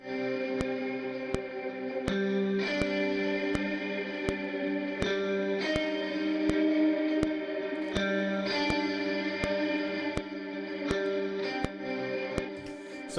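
A sustained electric guitar riff from the score of Zack Snyder's Justice League, drenched in huge reverb, chords washing, swelling and sucking in and out, with steady rhythmic pulses and no voices.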